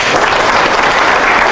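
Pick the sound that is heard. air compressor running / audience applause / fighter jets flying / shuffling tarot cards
audience applause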